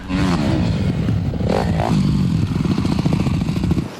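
A motocross dirt bike engine runs loud and close, a rough buzzing rattle with a brief rev in the middle, steady and continuous throughout.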